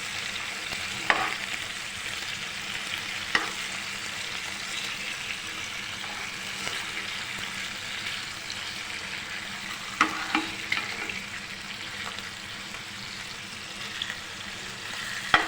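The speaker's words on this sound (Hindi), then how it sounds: "अब मैं इधर से मछली जो है इसके पीसेस जो फ्राई हो रहे इसका साइड चेंज कर लेती हूँ।" Fish pieces for biryani fry in a pan with a steady, fairly faint sizzle, broken now and then by soft clinks and scrapes as the pieces are turned.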